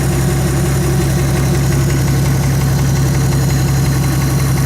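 A steady engine idles continuously during an ignition timing check, a low, even rumble with a faint rhythmic vibration and no voices.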